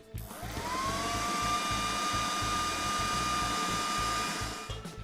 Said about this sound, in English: I'm just going to give it a quick blitz so they're still a little chunky